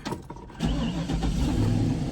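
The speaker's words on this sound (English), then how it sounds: "I'm gonna start the truck" A truck engine turns over and fires, then holds a smooth, steady idle nearby, heard alone without talk.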